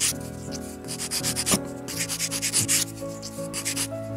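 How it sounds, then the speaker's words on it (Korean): Sandpaper rubs against a small miniature clay bowl in close, rhythmic scratchy strokes, each one a rasping swipe with brief pauses between, and no voices. "점토가 갈리면서 모양이 잡히고 있죠?"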